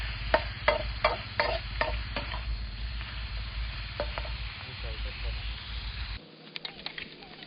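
Pork stir-fried with chili and garlic in a pan at a morning campsite, with sharp rhythmic scraping strokes of a spatula over a low sizzle, close and fairly quiet, ending abruptly.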